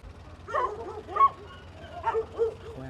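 Stray dogs barking outdoors, a handful of short yips and whimpering barks in two loose bursts, moderately close over a low background hum.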